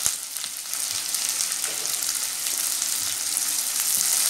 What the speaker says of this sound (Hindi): इसे हमें चलाते हुए तब तक के फ्राई करना है जब तक कि हमारा प्याज और काजू कलर चेंज नहीं कर लेते